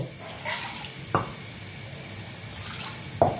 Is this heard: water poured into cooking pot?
yes